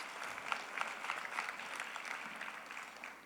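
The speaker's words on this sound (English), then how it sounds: "Guys, they really deserve a great round of applause." A banquet audience applauds steadily, many hands clapping at once in a sustained, moderately loud round with no talking over it.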